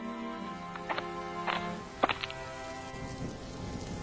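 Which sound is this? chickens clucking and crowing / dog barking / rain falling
rain falling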